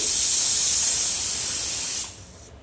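A pressure cooker cooking rasgulla in date palm jaggery syrup vents steam in a loud, broad hiss for about two seconds, then cuts off sharply into quieter background.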